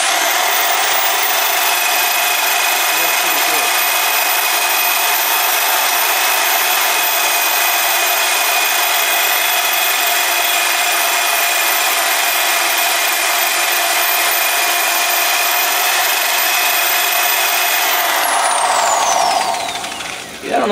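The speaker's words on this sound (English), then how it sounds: "that black disc does a real nice job and gets right down to the metal" A black abrasive disc on a grinder works down to bare metal during an Alamo hit-and-miss engine restoration, a loud continuous high-pitched grinding whine that runs steadily for about eighteen seconds and then winds down.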